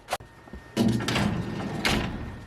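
A file cabinet drawer in a leather workshop is pulled open, with a quick click followed by two sliding, rumbling pushes, fairly close and clear with no talking.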